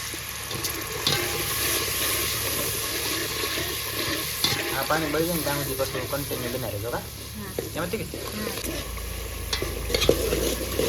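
Crab curry masala sizzles and bubbles in a pan after water is poured in, a steady loud frying hiss with intermittent stirring scrapes and clinks throughout.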